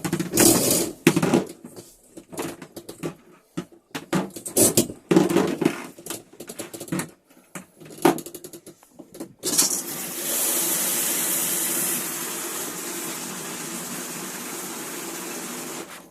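A caravan shower in a Swift Basecamp Plus 2 sputters with knocks and bursts as air clears from the system, then settles into a steady, even hiss of running water for several seconds.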